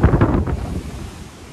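Strong storm wind in Birmingham, England, buffets the microphone in a loud, continuous low roar with a few gusting surges early on that ease slightly toward the end; no one speaks.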